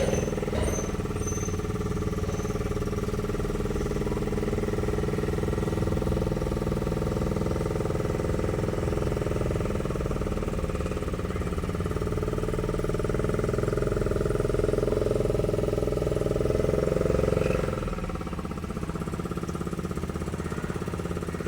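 A motor boat engine drones steadily while cruising on backwaters, a loud continuous low hum that holds throughout and eases slightly near the end.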